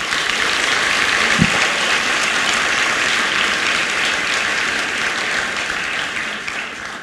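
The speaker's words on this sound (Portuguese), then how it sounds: "Dê uma salva de palmas a Jesus." A church congregation breaks into loud, sustained applause that fills the room evenly for several seconds and fades only slightly toward the end.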